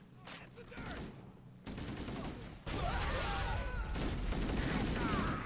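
Gunfire in the video game Halo: dense bursts of rapid shots and automatic fire, loud and continuous and growing heavier, mixed with in-game clatter and effects.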